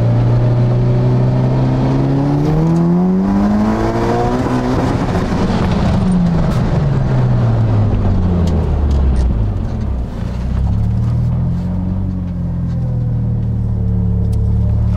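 A Mitsubishi Eclipse fitted with an Evolution engine accelerates hard through second gear, loud and close, with rising engine tones that sweep upward, drop at shifts and climb again over a steady rumble.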